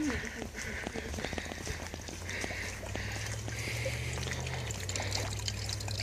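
Water trickles and pours into a pot at an off-grid homestead, a soft running stream with faint splashes, partly masked by a low hum and background noise.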